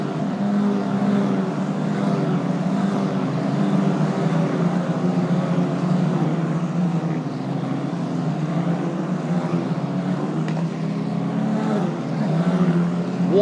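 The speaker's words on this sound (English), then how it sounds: "They keep on coming down the main straight as Antonelli goes up to Curva Roja" Italian F4 race cars run down the main straight at Monza, their engines blending into a continuous, loud drone with shifting pitch and no pause across the whole stretch.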